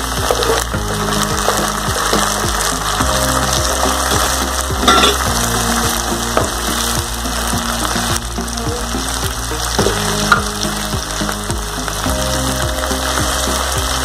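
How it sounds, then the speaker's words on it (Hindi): Tomatoes go into onions frying in a pan for a pea chole dish, a loud, continuous sizzle with scraping and clattering stirring mixed in, close-up and steady throughout, with no talking. "अब इसमें हम टमाटर डाल देंगे।"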